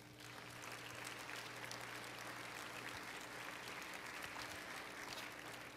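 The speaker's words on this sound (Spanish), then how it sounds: "Dele un aplauso a Dios por eso" Steady congregational applause fills a church, a dense continuous patter of many hands held at an even level over a low hum.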